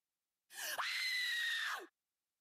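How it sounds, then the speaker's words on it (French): A shrill scream sound effect for a spooky Halloween tale. It is a single sustained piercing cry of about one and a half seconds that starts abruptly, holds steady and cuts off, with silence before and after. "Un hurlement strident retentit dans la rue."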